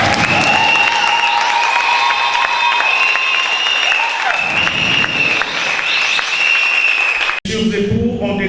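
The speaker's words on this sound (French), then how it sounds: "Veuillez applaudir s'il vous plaît." Guests applauding at a civil wedding ceremony at a French town hall, sustained clapping under a strong steady tone, with a voice coming in near the end.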